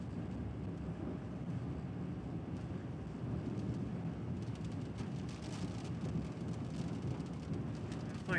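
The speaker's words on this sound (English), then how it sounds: "I'm fixing to get into some rain here" Steady rain falls across the whole stretch, a dense low hiss with a faint distant rumble underneath and no voices.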